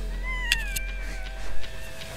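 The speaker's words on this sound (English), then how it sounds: "chilling with my cat" A pet cat gives a drawn-out, wavering meow close by, a few seconds long, over a low steady hum.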